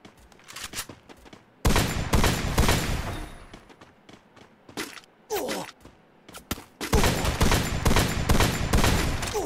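Bursts of rapid gunfire in Free Fire, a video game, in loud clusters separated by short pauses, with a few scattered single shots early on.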